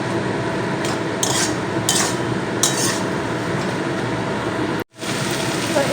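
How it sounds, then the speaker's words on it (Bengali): Chicken filling mixed with soy sauce is stirred in a pan for fuchka, with a few short scraping strokes over a steady background hiss and a brief dropout near the end. "দিয়ে ভালো করে নাড়াচাড়া করব যাতে সসগুলো সব মাংসের সঙ্গে মিশে যায়"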